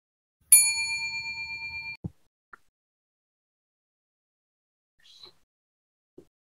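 A single bright bell ding used as a subscribe-reminder sound effect rings out clearly and decays over about a second and a half, followed by a few tiny clicks in near silence.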